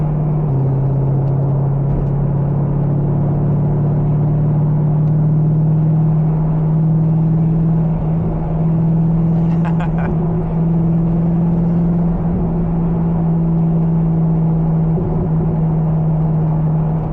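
A Chevrolet Corvette engine runs steadily with a loud, deep, constant drone and a low rumble that barely changes throughout.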